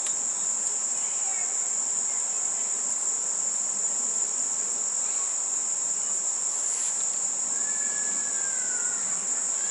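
Honey bees in a beehive box make a constant insect hum, heard close and alone with a steady high shrill tone and faint background noise throughout.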